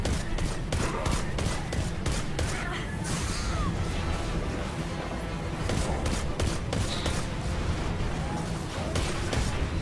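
Rapid bursts of gunfire crackle through a Destiny 2 firefight against an enemy, with repeated sharp shots over dense, constant combat noise.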